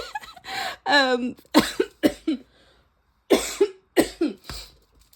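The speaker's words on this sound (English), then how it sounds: "as I keep mentioning energy vampires, I start to cough" A run of harsh, throaty coughs, close and loud, coming in short bursts with brief pauses between them.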